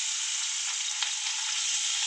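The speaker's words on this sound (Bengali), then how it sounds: "মাছগুলো আমি হালকা ভেজে নেব।" Tengra fish fry lightly in oil in a hot frying pan, giving a soft, steady sizzle with a small clink near the middle, fairly quiet and with no talk.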